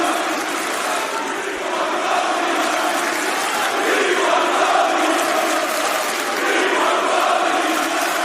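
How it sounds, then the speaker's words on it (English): A large wrestling arena crowd chants "We want Cody", a loud, continuous roar of massed voices rising and falling without pause. "We want Cody chants."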